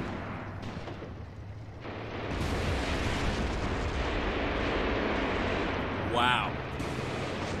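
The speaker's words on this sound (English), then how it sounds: "Very effective artillery fire, you can see back there." Artillery barrages and explosions in the tactical war game Graviteam Tactics: Mius Front, a dense continuous rumble of booms and bursts with one sharper blast near the end, while a voice briefly exclaims over it.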